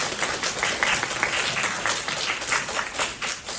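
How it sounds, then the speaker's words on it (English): A lecture-hall audience at a university integrative medicine talk breaks into steady, even applause, a dense wash of many hands clapping throughout, moderately loud with no speech over it. "Please give her a round of applause."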